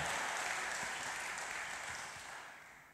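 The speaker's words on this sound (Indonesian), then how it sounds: "Boleh sambil tepuk tangan." Dense applause from a large church seminar crowd, steady and loud, slowly fading toward the end.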